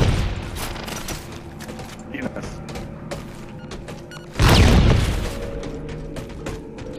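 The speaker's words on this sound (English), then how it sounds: "Oh god, he's shooting!" Gunfire in the video game Halo 4 on a custom Forge map, scattered shots and mechanical clatter with one heavy booming burst midway, while players talk over it.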